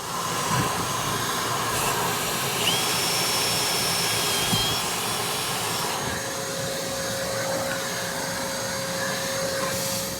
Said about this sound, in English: I just drilled the hole, used the vacuum cleaner, didn't get any filings in there.